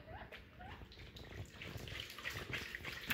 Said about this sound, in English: So I'm going to spin the jar really fast in my